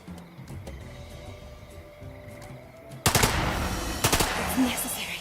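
Gunfire in the tactical video game Lamplighter's League: a quiet stretch with soft game ambience, then a sudden loud burst of shots followed by a few more sharp cracks and rumbling impacts.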